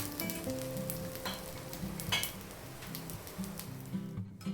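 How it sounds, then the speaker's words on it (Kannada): Food sizzles steadily as it fries in oil in a pan during veg thali cooking, a continuous crackling hiss running throughout with a few light clinks near the cookware. "ಮೇಲಿಂದ ಸ್ವಲ್ಪ ಆಯಿಲ್ ಹಾಕೋತಿದ್ದೀನಿ. ಒಂದು ಸೈಡ್ ಇದು ಚೆನ್ನಾಗಿ ಫ್ರೈ ಆಗಲಿ."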